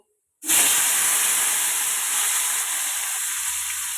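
Five-spice, lentil dumplings and asafoetida hit hot oil in a wok, bursting into a loud, close hiss after a moment of silence and then holding a steady sizzle.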